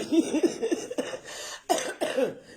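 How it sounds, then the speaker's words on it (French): A cluster of coughs and throat-clearing bursts, close and fairly loud, coming in uneven fits with short pauses between them. "elle veut me faire tousser ici."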